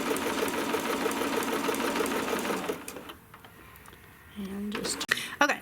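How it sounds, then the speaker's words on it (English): A sewing machine stitches appliqué fabric for a peppermint pillow in a steady rapid chatter, then stops and leaves a quiet gap before brief handling noises and a short restart near the end. "Just let the machine pull it."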